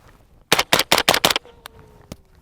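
Five rapid, sharp suppressed rifle shots in quick succession from a SIG Sauer LVAW firing S&B 220 grain subsonic rounds, followed by a faint metallic clink and one lighter pop; loud and close, no talking.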